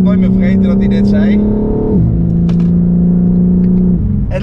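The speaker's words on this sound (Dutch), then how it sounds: "Maar hij is ook wat luider geworden. En dat komt simpelweg omdat we dus een BMW en Performance uitlaat hebben." A 2022 BMW M4 Competition with an M Performance exhaust revving, a loud, close engine holding high revs, dropping, then holding again with sharp pops, and a person speaking over it.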